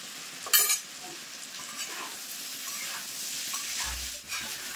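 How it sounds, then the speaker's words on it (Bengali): Ground spices being stirred into amla frying in a pan, a steady sizzle with scraping spoon strokes and one brief sharp clatter near the start, with no voices. "মশলা দিয়েও কিন্তু আমি খুব ভালো করে নেড়ে নিয়েছি"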